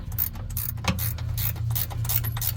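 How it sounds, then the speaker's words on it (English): A ratcheting wrench clicks as it turns the 5/8 tensioner bolt on a Titan 875 blower, with a close mechanical ratchet texture running steadily over a low background hum. "So I got a ratcheting wrench here."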